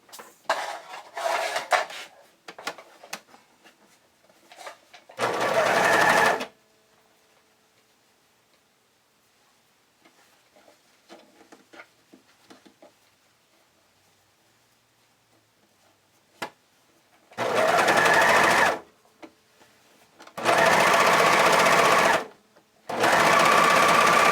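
Sewing machine stitching the sharp corners of Hunter Undies underwear, running in one short burst early on, then three longer steady runs near the end separated by quiet pauses.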